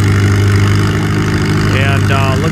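Antique Farmall tractor with a narrow front end and double rear wheel weights, engine running steadily with a strong low drone throughout at a tractor pull, a voice heard briefly over it near the end.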